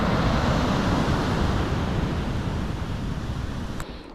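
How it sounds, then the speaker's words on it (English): Ocean surf rolls onto a beach on New Zealand's South Island west coast near Ōkārito, a continuous loud roar of breaking waves mixed with gusting wind buffeting the microphone, easing slightly near the end. "We are at the beach."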